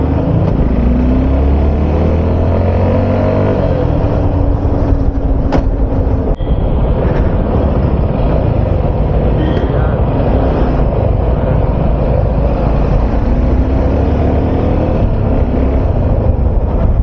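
Heavy road traffic near Kathgodam heard from inside a moving vehicle: a loud, continuous rumble of engines and road noise with a few passing horn-like tones.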